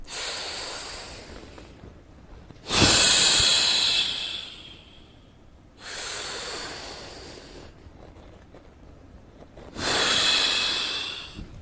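A person draws several long, deep breaths against the resistance of a belt, each a loud, hissing inhalation close to the microphone, separated by quieter pauses.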